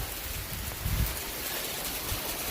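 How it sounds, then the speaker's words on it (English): Hail striking the outside of a house, a dense, steady rattling hiss like heavy rain, heard fairly faintly with a few heavier low thumps. "it is hail. We have hail coming in"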